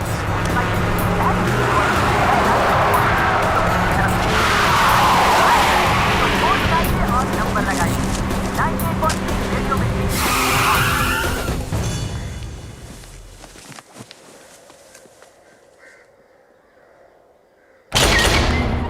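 A car engine revs and drives through turns with tire noise and skidding, loud for most of the stretch, then fading away into near quiet before a brief loud burst at the end; talk runs over parts.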